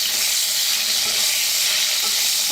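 Green chilies roasting in a pan give a steady, loud, close sizzle and crackle, a continuous frying hiss with no voices.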